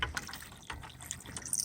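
Water gushes steadily into a chicken waterer as an irrigation zone runs, a continuous close splashing fill with small surges, no talk over it.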